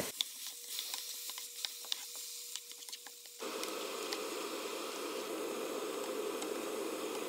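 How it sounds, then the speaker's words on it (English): Medium deveined shrimp hit hot oil in a frying pan and a steady, loud sizzle fills the pan, continuous crackling and hissing with no voices. "I'm throwing in some medium deveined clean shrimp."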